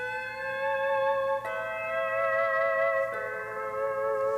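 A pedal steel guitar sustains smooth chords shaped with a volume pedal, three clear tones gliding into one another without gaps, bright and ringing, alone and up close.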